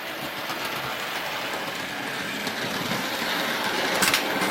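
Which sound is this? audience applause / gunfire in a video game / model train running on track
model train running on track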